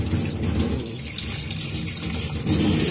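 Water gushes strongly and steadily from a sink faucet, a loud, continuous rushing splash close by.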